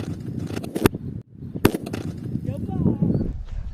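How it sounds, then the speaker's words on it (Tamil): A homemade colourful firecracker in a bottle, set off with a power supply, goes off in two sharp, loud pops about a second apart, with voices and handling noise around them. "இப்போ வாங்க இந்த பட்டாசை வெடிக்க வச்சு எப்படி வருதுன்னு பார்க்கலாம்."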